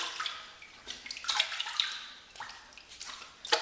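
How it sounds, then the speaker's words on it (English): A razor rinsed under a running bathroom tap during a safety-razor shave, splashing and gurgling water with uneven swells and short bursts, close and moderately quiet, no voices. "now rinse off again"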